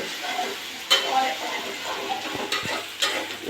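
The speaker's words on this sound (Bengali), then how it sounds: "ডুবা তেলের মধ্যে ভাজা হচ্ছে" Food deep frying in a pan of oil for a home iftar meal, a steady sizzle with brief stirring clatters and faint voices in the background.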